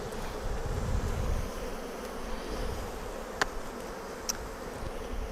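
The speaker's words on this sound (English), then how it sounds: "there's a whole lot of bees hanging out on the landing board" Honey bees from a caught swarm crowd a hive's landing board, producing a steady, soft droning hum with a couple of brief sharper buzzes as individual bees pass close.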